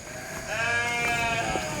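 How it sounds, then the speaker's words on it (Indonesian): Goats bleating near a small stream in the Indonesian countryside, with drawn-out, wavering calls that overlap and carry loudly at close range, and no talk. "Ini kambing pada bunyi."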